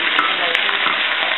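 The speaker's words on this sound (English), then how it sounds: "Just going to stir this around a little bit." Food stirred around in a hot pan, a dense, steady sizzle close up with soft scraping strokes of the utensil, brief and without talk.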